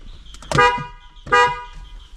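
Two loud honks from a Hyundai Creta horn fitted to a Maruti Alto K10, each a short bright blast with a brief gap between them and a quieter chirp before the first.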